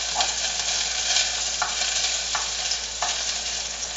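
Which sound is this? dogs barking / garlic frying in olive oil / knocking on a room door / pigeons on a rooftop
garlic frying in olive oil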